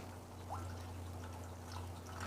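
Water poured from a cup onto minced garlic and a splash of vinegar in a small dish, a brief quiet trickle heard alone over a low steady hum.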